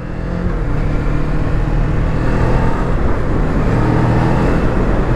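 A loud, steady engine roar from up close, a Kawasaki Z400 motorcycle running at speed with continuous rumbling and rushing wind noise.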